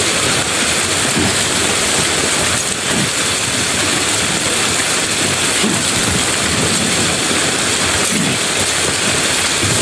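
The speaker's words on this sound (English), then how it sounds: "I think the rain's heavier than ever" Heavy rain in the video game Death Stranding, a dense, steady hiss of downpour that stays loud and unbroken throughout with faint low rumbles beneath.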